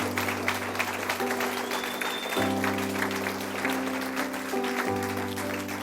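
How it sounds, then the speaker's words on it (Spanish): Church congregation applauding, a steady wash of clapping running under sustained organ or keyboard chords that shift as the music moves on. "Denle un aplauso bien fuerte, pero bien fuerte a nuestro Señor"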